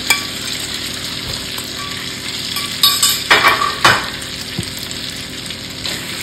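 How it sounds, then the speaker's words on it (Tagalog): Marinated beef sizzles steadily in hot oil for a Filipino beef and onion stir fry, a continuous close hiss with a few sharper bursts and faint utensil clinks near the middle. "pag mainit na yung mantika natin, pwede na natin ilagay yung beef na minarinate natin"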